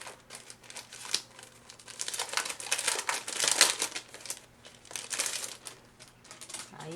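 Pattern paper for card making crinkles and rustles in irregular bursts as it is handled up close, some crackles sharper than others, with no talking.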